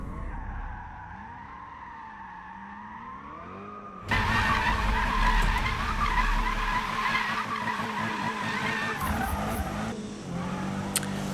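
Tires squeal in a long sustained skid as a car drifts in the racing game Need for Speed (2015), loud and close after a quieter engine drone, with engine roar running underneath.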